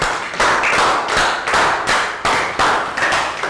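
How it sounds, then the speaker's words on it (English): A class giving a round of applause in a Year 3 English lesson, heard as short bursts of clapping in several quick waves, close and fairly loud. "Round of applause."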